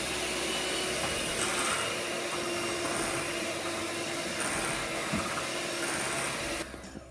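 Cake batter being mixed, a steady whirring, scraping churn that runs continuously and fairly loud for the whole stretch before dropping off abruptly at the end, with no talk over it.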